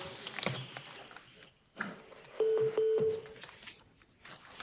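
Short telephone keypad tones beep in a brief sequence on a phone line while a call is switched to intercom, with faint room noise and soft voices around them.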